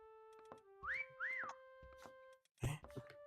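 Two rising-and-falling whistles in a hide-and-seek game of Mecha Chameleon, each clear and close, set against steady electronic game tones and a short burst of noise near the end.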